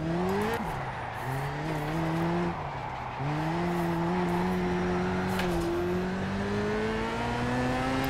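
A BAC Mono race car in Project CARS at Oschersleben runs at full throttle, its engine a loud, continuous buzzing whine that climbs in pitch, drops briefly at gear changes near the start and around three seconds, then rises again.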